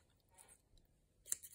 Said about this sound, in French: Et là, au moyen de mes ciseaux,